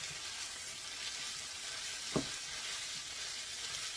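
Meat mixture sizzling steadily in a pan for a tator tot casserole, a continuous soft frying hiss with a single brief stirring scrape partway through, no voices.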